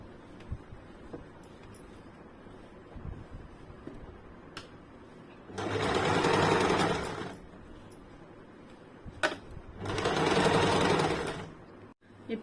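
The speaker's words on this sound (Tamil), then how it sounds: "இப்போ நம்ம தச்சிடலாம்." Sewing machine stitching a blouse lining in two steady, close, whirring runs of several seconds each, separated by quiet pauses with scattered small clicks and handling sounds.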